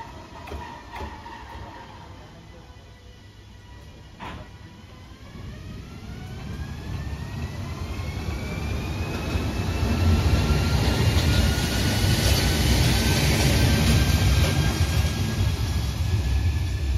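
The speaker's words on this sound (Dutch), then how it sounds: "De 151078 is ook uit haar slaap gewekt en de lok komt op spoor 7 gereden." Locomotive 151078 rolling onto track 7 at a rail yard, a low engine rumble that builds steadily from quiet to loud, with rising and falling whining tones and a sharp knock early on.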